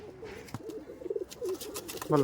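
Teddy pigeons, a high-flying breed, coo close by in a series of rolling, throaty calls, with a sharp tap or flutter early on and a louder burst of cooing at the end.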